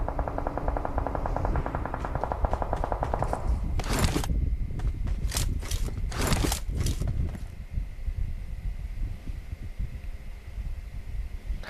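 Gunfire in the mobile battle royale game PUBG Mobile comes as a dense rattle of bursts and several loud sharp shots over a steady background hum, fairly close, without talk.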